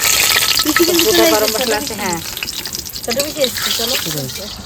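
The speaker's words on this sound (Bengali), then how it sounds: "কড়াইতে তেল আর একটু তেল দিয়ে দিয়েছি আলু ভেজে এবার আমি তেজপাতা শুকনো লঙ্কা দিয়ে দেবো" Bay leaves and dried red chillies sizzle in hot oil in a kadai, a steady crackling hiss that runs throughout while voices talk over it.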